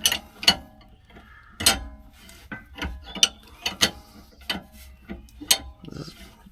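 A clamp is tightened down on a Ford Transit rear leaf spring during a SuperSprings install, making a series of clicking mechanical bursts. The ratchet-like ticks come close up at an uneven rhythm, with rattling tool noise between them.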